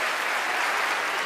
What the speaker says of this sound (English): they give her a well-deserved round of applause